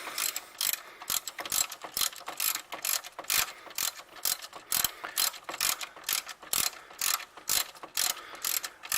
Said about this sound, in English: The wrenches are here right now, so I'll just use the wrenches for the time being.